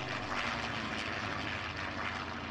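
A Massey Ferguson 285S tractor engine running in Farming Simulator 19, a steady, loud, continuous drone with broadband noise and a low rumble, heard alone with no talk.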